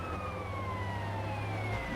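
A fire truck siren in the GTA San Andreas video game wails steadily and loudly, its tone sliding slowly downward over a constant low engine rumble.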